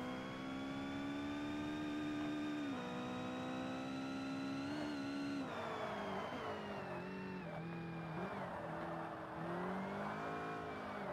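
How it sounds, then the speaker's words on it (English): A turbocharged race car engine in the Forza Motorsport video game drones loudly and continuously, its pitch rising and falling with revs and gear changes, with no talking. "This car sounds turbocharged."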